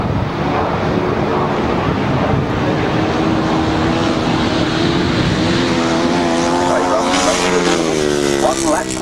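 Grasstrack motorcycles race around a track at a 1999 midsummer meeting, their engines droning loud and constant over wind buffeting while an announcer commentates throughout.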